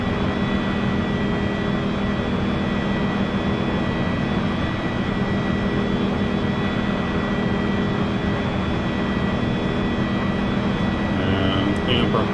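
E-Jet 175 jet engines in flight during a right turn, simulated in X-Plane, giving a constant even roar with steady tonal hums, unbroken for about twelve seconds.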